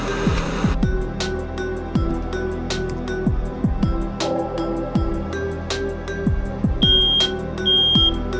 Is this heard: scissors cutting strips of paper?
no